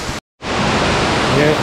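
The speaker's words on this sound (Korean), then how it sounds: "예, 쌍폭포네요." A twin waterfall in a Seoraksan valley roars as a steady, dense rush of falling water, loud and close, broken only by a brief cut near the start.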